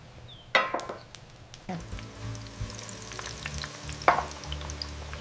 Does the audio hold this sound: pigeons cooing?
no